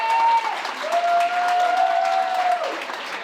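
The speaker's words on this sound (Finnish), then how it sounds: "raikulat aplodit, Jyri Katarahko" An audience applauds with steady, dense clapping that keeps going for several seconds as a thick wash of hands, while a voice speaks over it.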